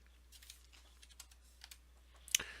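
Light typing on a Windows computer keyboard, a handful of soft, irregular key clicks ending in one sharper tap, close and quiet with a low steady hum beneath.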